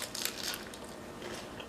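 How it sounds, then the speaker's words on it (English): Crunchy bites into a beef lettuce wrap packed with water chestnuts and red bell peppers, a short cluster of close, crisp crunching and chewing noises at low volume. "the crunch from those water chestnuts and those red bell peppers are absolutely scrumptious"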